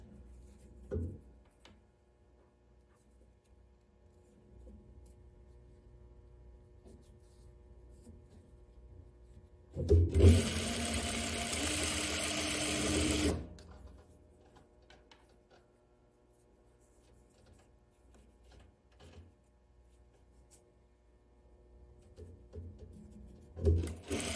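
A sewing machine stitches fabric in one loud burst of roughly three seconds on a tie top, set between long stretches of quiet with faint handling sounds.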